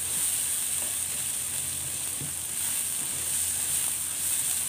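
Onions sizzling as they fry in a pan, a steady bright hiss with occasional small pops, close and continuous with no talking.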